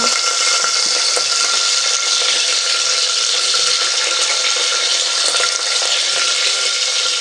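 Onions sizzling in hot oil in a pan with two cloves and a piece of cinnamon, a steady loud hiss with faint crackle throughout, for mutton kofta.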